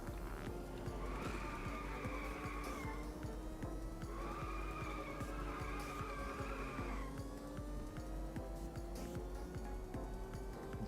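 Video game car drifting, tires squealing in two long sustained skids with a steady engine drone underneath, fairly faint and without voices.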